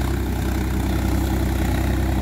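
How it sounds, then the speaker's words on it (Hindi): A Swaraj 963FE 4WD tractor pulls a two-bottom mould-board plough through hard, sticky soil. Its engine gives a constant, loud, low diesel drone that labours under load, with no speech. "तो फिलहाल तो सभी ट्रैक्टर रोते हैं, ये भी थोड़ा बहुत रो ही रहा है।"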